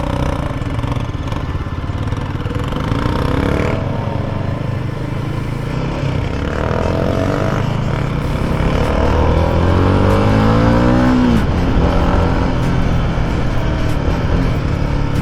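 Royal Enfield Guerrilla 450 motorcycle being ridden, a loud steady engine drone with rising and falling revs as it accelerates through the gears, heard up close from the rider's position.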